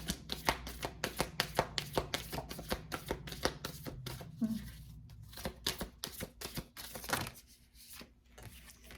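Tarot cards are shuffled up close in rapid, crisp riffling taps for several seconds, then the handling slows to a few scattered soft card sounds.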